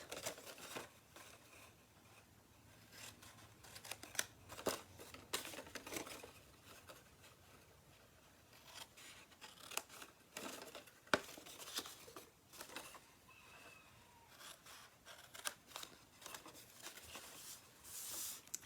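Paper corner pieces are snipped away with scissors in a quiet room, a series of soft irregular snips and paper rustles spread throughout, with no talking.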